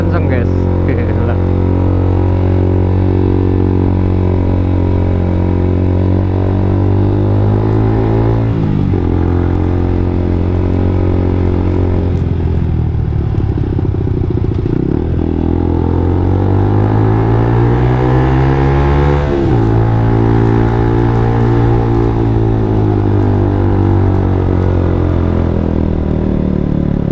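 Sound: motorcycle riding with modified exhaust, single to twin-cylinder sound

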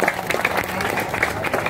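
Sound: audience applauding

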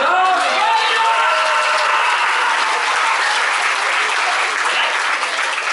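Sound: audience applause for Darth Vader

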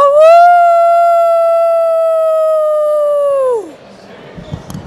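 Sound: person imitating a she-wolf howl

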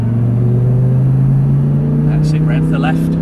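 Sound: Audi R8 engine accelerating on Silverstone track

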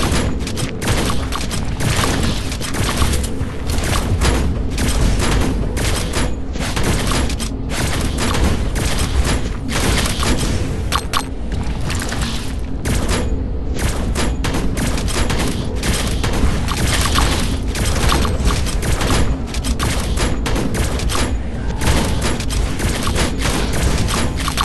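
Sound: gunfire in the mobile shooter game Age of Kita

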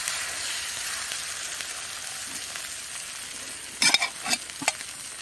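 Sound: egg omelette sizzling on a hot oiled stone

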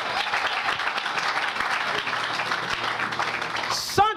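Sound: congregation applauding and cheering at a church sermon

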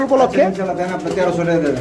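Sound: pigeons cooing, black-faced pigeon pair

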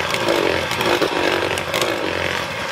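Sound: electric mixer beating peach cake batter

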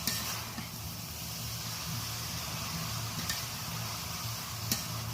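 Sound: stirring cabbage frying in a wok

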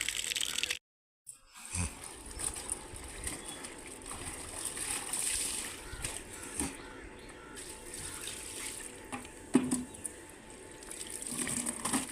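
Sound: washing clothes with running water

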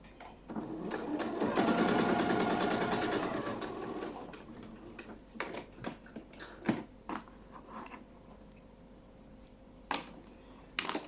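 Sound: sewing machine stitching fabric for a quilted bag

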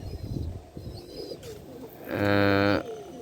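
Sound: pigeons cooing

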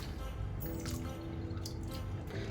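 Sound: washing cut potatoes in cold fridge water

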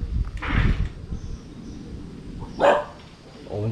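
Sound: dogs barking

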